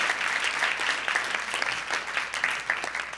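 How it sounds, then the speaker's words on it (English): A room full of conference attendees gives a steady round of applause, even and continuous clapping at moderate level filling the whole stretch without a break. "let's give our founding superhero a round of applause"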